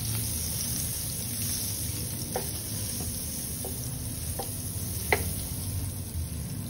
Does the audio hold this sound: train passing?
no